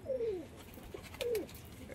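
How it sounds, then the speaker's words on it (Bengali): Pigeons in a loft, including Rajshahi Giribaz birds, give two distinct throaty coos about a second apart, close and clear, with only faint room noise between them and no talk. "এখানে কিন্তু লফটের মধ্যে বিভিন্ন ধরনের পায়রা আছে, আপনারা দেখতে পাচ্ছেন।"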